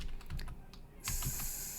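Keys clatter on a computer keyboard as an nmap command is entered, a short close burst of quick, uneven clicks with a brief pause midway, no voices.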